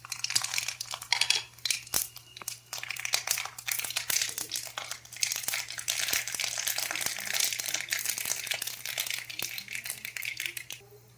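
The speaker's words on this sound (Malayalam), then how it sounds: "കടുകൊക്കെ പൊട്ട് റെഡിയായി." Mustard seeds and a little fenugreek crackle and spit in hot oil in a pan, the start of a sardine curry: dense, steady popping and sizzling throughout, close and fairly loud, with no talking.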